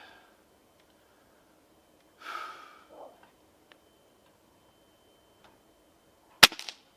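A Gamo Swarm Magnum Pro .22 air rifle fires one pellet, a single sharp crack near the end followed by brief rattling. Earlier there is a short faint rustle, and otherwise near silence.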